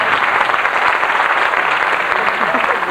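Audience at a 1999 town event in Radnevo applauding, a dense continuous wash of clapping from a sizable crowd, steady and fairly loud for the whole stretch.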